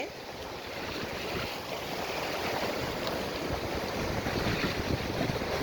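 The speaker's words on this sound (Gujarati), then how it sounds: "આપણને પણ પલાળે એટલા જબરજસ્ત મોટા મોટા મોજા આવી રહ્યા છે" Huge ocean waves surge and splash at Devka beach, a loud continuous roar of surf with heavy wind noise on the microphone and no voices.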